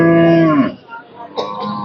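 A single cow moos loudly and nearby for about half a second at a cattle market, then trails off into quieter background noise and a brief distant sound.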